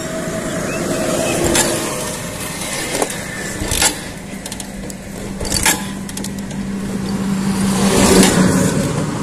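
A motorbike that has stalled in an open field is kick-started repeatedly: sharp mechanical kicks land every second or two over a low, rough engine rumble, close and moderately loud, with no clear catch.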